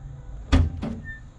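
A mechanical thunk followed by a second softer clunk as the power trunk lid of a 1978 Trans Am releases and lifts, close by over quiet background hum.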